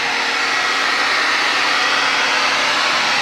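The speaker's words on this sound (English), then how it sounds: "it only takes about 5 minutes if you dry it with the heat gun" A heat gun blows hot air onto fresh plaster patching a wall hole, a loud, steady, unbroken roar of fan and air with no pauses.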